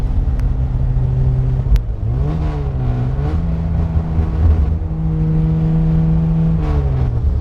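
A loud, raspy exhaust from a 1952 Jaguar XK-120 fixed-head coupe drones steadily from inside the car as the engine pitch rises and falls through gear changes while driving.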